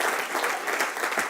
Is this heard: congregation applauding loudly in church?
yes